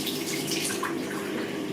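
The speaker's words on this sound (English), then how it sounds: "Just get a little bit of hot water" Hot water runs steadily from a tap into a sink, a continuous close splashing hiss with no voices.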